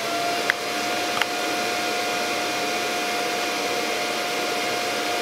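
A Kentaro 650-watt electric welding machine runs with a steady, even electrical hum and a thin constant tone, close and unbroken, with two faint clicks early on and no voices.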